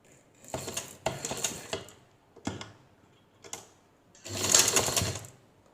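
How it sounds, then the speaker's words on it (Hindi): A sewing machine stitching a hem seam in short bursts of rapid mechanical whirring and ticking, separated by quiet pauses, with a longer run at the end. "ये जो सिलाई हम लगा रहे हैं घेर वाली, इसको हम यहाँ तक चाक के स्टार्टिंग पॉइंट तक आने देंगे"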